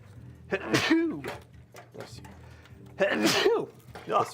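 Two sharp sneezes, one near the start and a louder one around the middle, come up close in a room during a workstation PC build, with people talking before and between them.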